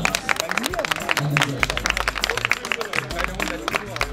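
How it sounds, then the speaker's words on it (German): Audience applause at an evening party on a parquet showroom floor, dense rapid clapping from a crowd filling the space, close and continuous, with murmured voices and some low rumble underneath. "einen großen, großen Applaus für Jonas"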